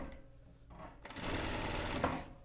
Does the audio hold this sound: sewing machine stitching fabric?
yes